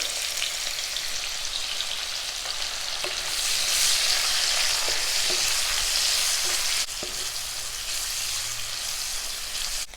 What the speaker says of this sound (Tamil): இப்போ ஆனியன் நல்லா ஃப்ரை ஆகிருச்சு.